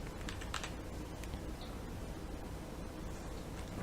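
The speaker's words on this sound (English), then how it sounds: "You don't have to press enter to type either, you just start typing." Faint, quick keystrokes patter on a PC computer keyboard as a command is typed into the King's Quest 1 game, set against a steady hiss.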